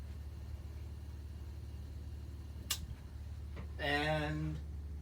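An RV ceiling fan with slightly warped, bent blades runs on low speed, giving a steady, even low hum throughout, with a brief click near the middle and a voice speaking over it toward the end.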